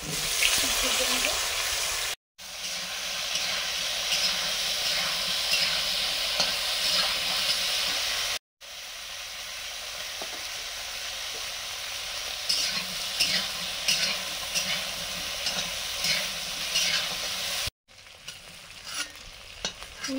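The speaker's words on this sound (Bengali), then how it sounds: "পুঁই ডাঁটাগুলো ভাজা হয়ে গেছে" Malabar spinach stems fry with salt in a pan, making a loud, steady sizzle with occasional stirring scrapes and a few abrupt breaks in the sound.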